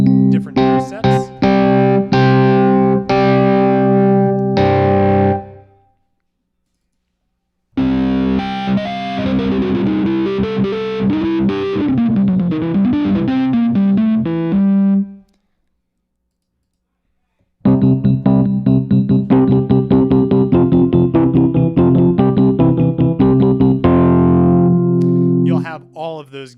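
An instrument played live through Overloud THU effect presets in Gig Performer, sounding as loud distorted, effected chords and sweeping tones in three bursts separated by short silences.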